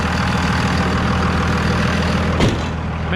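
A 24-valve Cummins diesel in a 2001 RAM 3500 dually idles loudly up close, a constant rough clatter with a deep thrum and a single brief knock near the end.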